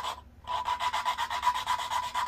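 Engine valves on a Farmall Cub tractor being lapped, a close, steady rhythmic rasping grind of valve against seat, repeating back and forth about four times per second after a brief pause.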